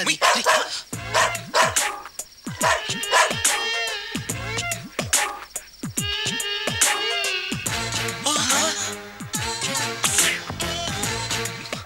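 A dog barks repeatedly and loudly close by in a Telugu comedy scene, sharp barks and yips mixed with busy background sound and some voices.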